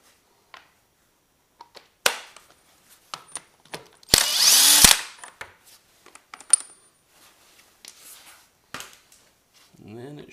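An impact wrench rattles off a 30 mm sprocket nut on a Suzuki DRZ400S motorcycle, one loud burst of under a second amid scattered tool clinks and handling knocks.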